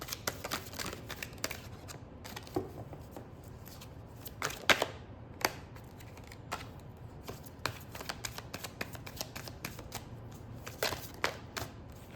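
A deck of tarot cards is shuffled again and again, giving a steady run of crisp riffling flutters and soft slaps as cards fall, close and moderately loud with no voices.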